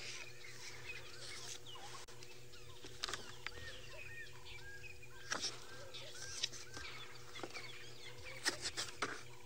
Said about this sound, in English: Can hear the birds are crazy this morning.